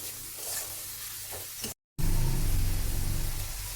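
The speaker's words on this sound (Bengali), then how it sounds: "এবারে এতে আমি দিয়ে দেবো কিমা, চিকেন কিমাটা দিয়ে এটাকে এবারে আমি ভালো করে কষবো।" Chicken mince frying with spices in a pan, a steady loud sizzle with stirring scrapes that cuts out briefly, then returns stronger and denser as the mince hits the hot spiced oil.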